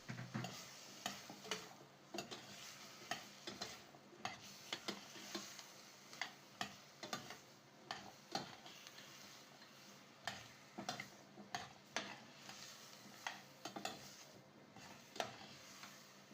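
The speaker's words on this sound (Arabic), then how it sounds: "وبقلي شوي البطاطات مع البصلات" Potatoes and onions fry quietly in a pot for a carrot soup, with a soft sizzle and irregular clinks and taps of stirring scattered throughout.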